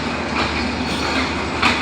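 A train running past at Santahar railway station, a loud, close, continuous rumble with rattling wheel clatter and a brief squeal near the end; no talking.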